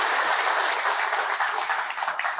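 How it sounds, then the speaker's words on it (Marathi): An audience claps steadily and densely throughout, a continuous wash of applause at a local political discussion gathering, with no pauses. "एकदा जोरदार टाळ्या"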